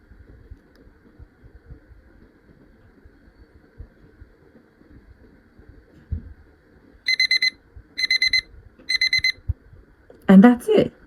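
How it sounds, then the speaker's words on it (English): An alarm clock beeps in three short, evenly spaced bursts of rapid electronic tones over a quiet room, followed by a brief rustling clatter. "Alarm."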